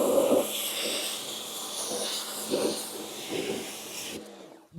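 A water spray rinses a car during a foam cannon maintenance wash, a steady close hiss of water lasting several seconds with slight surges before it cuts off abruptly near the end.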